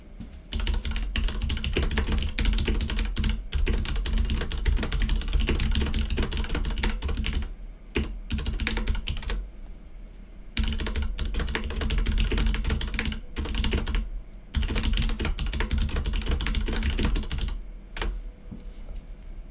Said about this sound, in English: I will do some typing in chat to help.